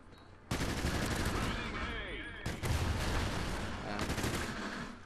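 Gunfire from a first-person shooter video game: loud, dense bursts of rapid automatic fire with booming reports. It comes in overlapping volleys across the whole stretch, with a brief lull near the middle.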